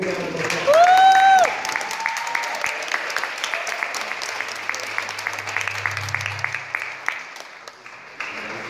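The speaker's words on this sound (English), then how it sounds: "Give him a big round of applause." An audience at a motivational speaking event applauds steadily for several seconds, many hands clapping under a brief tonal whistle-like sound near the start.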